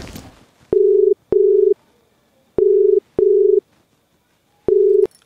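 An electronic phone ringback tone sounds in five short beeps, paired in a regular pattern, with silence between them.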